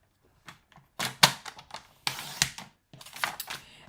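Paper trimmer cutting cardstock for a stamped box template, a series of sharp close clacks and sliding scrapes in irregular bursts, with no talking.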